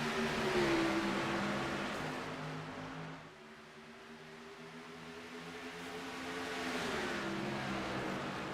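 Stock race cars at Kentucky in the iRacing video game, a field of engines droning at a distance with sustained whining tones that dip and then climb again, fairly faint and with no voices.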